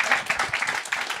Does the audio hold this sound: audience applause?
yes